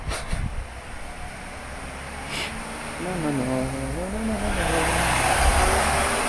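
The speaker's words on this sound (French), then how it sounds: "il y a une voiture qui arrive" A car approaches along an outdoor road, its engine hum and tyre noise swelling gradually and growing nearer and louder toward the end.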